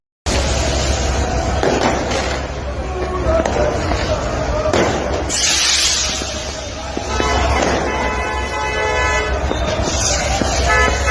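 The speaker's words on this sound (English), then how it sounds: "fireworks celebration of the 103rd MC Alger" Fireworks at a celebration of the 103rd anniversary of the MC Alger football club in Algiers, Algeria, with repeated bursts and crackling over a loud, continuous crowd roar.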